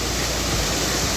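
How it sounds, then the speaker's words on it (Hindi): Kiwai waterfall in the Kaghan valley roars as a steady, loud, broadband rush of falling water close by, with no other sounds standing out. "This is called किवाई waterfall."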